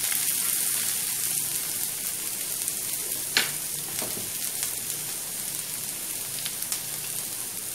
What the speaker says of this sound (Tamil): வெங்காயம் எல்லாத்தையும் போட்டு வதக்கிக்கலாம்.